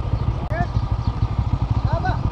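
A motorbike engine chugs steadily and close by on an off-road uphill route near a small village in Kashmir, with a voice speaking briefly over the engine.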